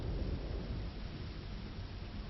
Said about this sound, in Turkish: Şu an yağmur yağıyor falan diye belki.